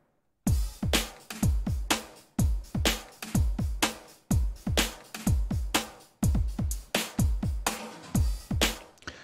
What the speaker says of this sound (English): So let's turn down the pre-delay and have another listen.